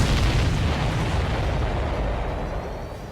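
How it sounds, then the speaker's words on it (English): A missile strikes its target in the jet combat game Ace Combat 7, setting off a loud, deep explosive boom whose rumbling roar carries on for about three seconds, easing slightly toward the end without any voices. "That's a confirmed direct hit by the missile."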